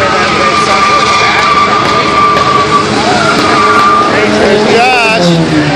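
A car doing a burnout at the 2013 Adirondack Nationals car show in Lake George, a loud continuous engine roar with screeching tire squeal, heard in a noisy crowd with people talking nearby.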